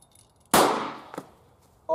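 A hydrogen gas ignition from a homemade hydrogen generator, lit with a stick, goes off as a single sharp, loud bang that rings and decays over about a second. A brief click follows, then another sound starts at the very end.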